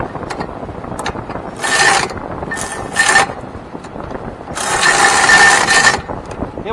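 A wrench ratchets in bursts on a bolt at the rear brake of a first-generation Chevy Traverse, with close, loud clicking runs separated by pauses.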